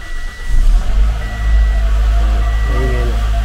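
A 2010 Toyota Corolla with a noisy clutch starts up, its engine settling into a deep low rumble marked by intermittent thin whining tones, while a person talks nearby.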